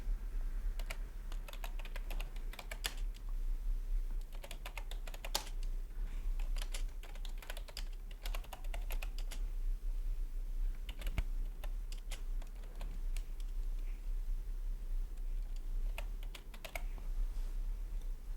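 Steady typing on a computer keyboard while entering a payout address, with rapid clustered key clicks and occasional louder taps running throughout at close range, no talking.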